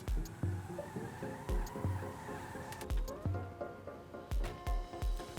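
Car being towed with a tow rope in FiveM, a game engine drone with repeated low thumps and brief squealing bursts recurring every second or so.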